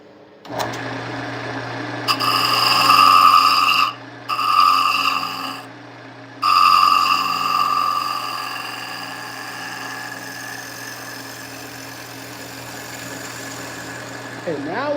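A wood lathe spins a segmented bowl with a steady motor hum, while bursts of tool cutting come and go close by, then the noise settles back to the running machine.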